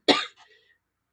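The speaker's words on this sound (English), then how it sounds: "This cough is..." A single sharp, close cough with a short rough tail, followed by a faint trailing throat sound and then quiet.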